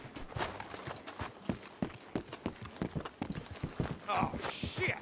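Horses from the video game Red Dead Redemption 2 walk with a steady clip-clop of hooves, close and rhythmic, while voices talk over them.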